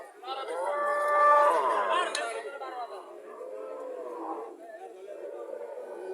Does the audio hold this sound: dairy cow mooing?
yes